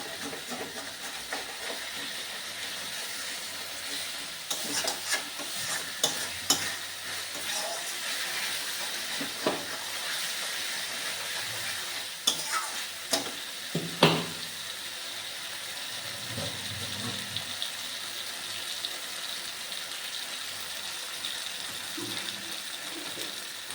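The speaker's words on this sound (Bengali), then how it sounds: "একটু জল দিয়ে একটুখানি কষে দিই ভালো করে" Masala being stirred and fried with a splash of water in a kadai, a steady steamy hiss with scattered scrapes and knocks of the spoon against the pan.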